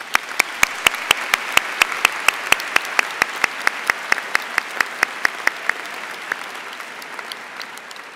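An audience at a university medical faculty graduation applauds the graduates, with sharp rhythmic hand claps standing out in unison over a dense bed of clapping that thins slightly toward the end.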